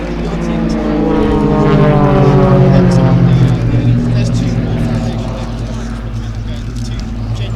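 An aerobatic display aircraft at an air show flies vertical manoeuvres, giving a loud sustained propeller-engine drone that rises and falls in pitch. A commentator talks over it.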